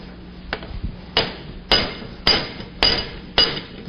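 A hammer strikes a woven steel handle piece held over a vise, bending it down and around: six sharp metallic blows at a steady, roughly half-second rhythm, loud and close, with no talk.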